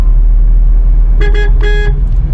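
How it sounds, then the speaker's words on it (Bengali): A car horn gives two quick short toots followed by a slightly longer blast, loud and close over the steady rumble of the moving car's engine and road noise. "ওকে হর্ন দিলাম বেরিয়ে গেলাম"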